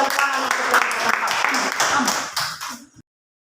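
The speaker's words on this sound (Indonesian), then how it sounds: "sekali lagi kita berikan tepuk tangan untuk kelompok ke-4" Students in a classroom applaud group 4 with a close, dense burst of clapping that fades out and stops at about three seconds, with voices mixed in.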